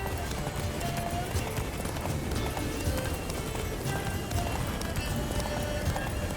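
Horse galloping in The Witcher 3: Blood and Wine, rapid continuous hoofbeats mixed with the game's music and ambience, with voices talking over the run.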